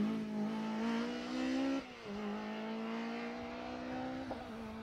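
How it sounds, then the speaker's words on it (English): An MG ZR Super 1600 rally car with a normally aspirated engine, running at a stage on asphalt, holds a loud, steady engine drone near by, with a brief dip in pitch midway, as if shifting gear, and a short blip toward the end. "Another fantastic sounding car is the MGZR"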